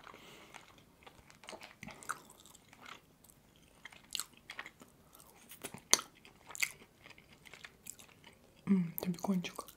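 Crunchy bites and wet chewing of a double cheeseburger with bacon, close and intimate, scattered through quiet stretches, growing louder and denser near the end.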